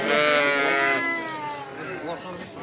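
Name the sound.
sheep bleating at a livestock market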